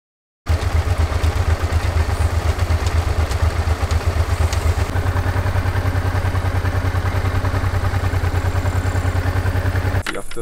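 A Honda Deauville motorcycle idles close by in an Alpine setting, its engine loud and steady with a rapid even thrum and a light mechanical clatter that carries on alone for about ten seconds.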